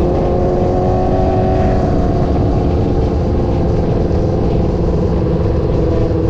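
A group of Harley motorcycles rides along a road at a steady, even pace, producing a continuous loud engine drone and road rumble with no distinct pass-by peaks.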